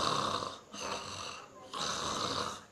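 A French-speaking preacher imitates snoring with his voice, making three drawn-out rasping snore sounds in a steady rhythm, close and fairly quiet.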